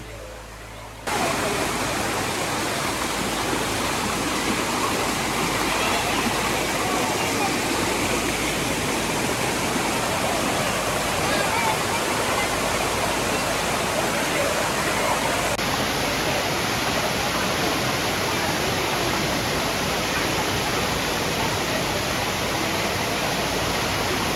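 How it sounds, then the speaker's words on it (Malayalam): A hidden monsoon waterfall near Thrissur, Kerala, roars as a loud, steady wash of rushing water that starts after a brief quiet moment and continues unbroken throughout. "ഇതാണ് രണ്ടാമത്തെ വാട്ടർഫാൾസ് ഇത് നേരത്തെ കണ്ടതിനായിട്ടും കുറച്ചും കൂടി ഭംഗിയുള്ള ആണ്"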